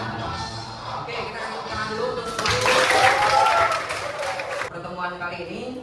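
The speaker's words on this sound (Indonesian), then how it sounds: "Oke, kita tepuk tangan dulu untuk pertemuan kali ini." A classroom of students applauding together, a dense burst of clapping that swells in the middle and then fades, with voices talking around it.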